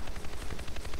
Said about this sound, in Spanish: sí que suenan disparos